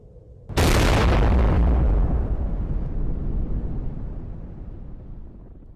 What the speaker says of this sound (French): à 5h29 et 21 secondes, le gadget explose.